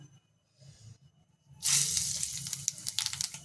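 Nigella seeds (kalo jeere) hit hot oil after a quiet start with a low hum. A sudden loud sizzle bursts up and keeps crackling and hissing, with small spits flaring near the end.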